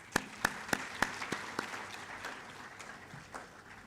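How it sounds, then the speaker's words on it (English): A few sparse, evenly spaced handclaps ring out at a 2023 memorial oration and then quickly thin out and fade, quiet and distant with no voices. "give her another round of applause."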